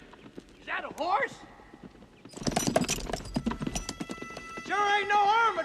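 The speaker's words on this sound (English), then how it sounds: "guys hear that? Is that a horse?" A horse in a western setting whinnies twice, while sharp hoof clip-clops sound in a dense burst between the whinnies. Everything is heard at moderate distance against a quiet outdoor background.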